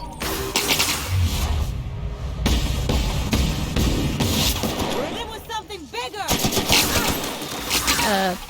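Gunfire in the video game The Outer Worlds rattles in quick repeated bursts over game sounds and music, with a voice talking at times.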